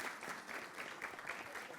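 Applause from an audience at an artist presentation in the Belém Palace in Lisbon, a steady dense clapping that holds evenly at moderate loudness through the whole stretch, with no voices over it.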